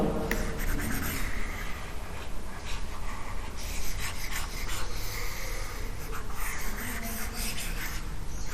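Writing is rubbed out on a board for a chemistry lesson, a continuous close scratchy rasping that runs the whole time in uneven strokes without pause, with no one speaking.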